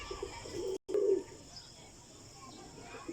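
A breeding pigeon gives a brief, low coo near the start, then the scene settles into quiet background noise.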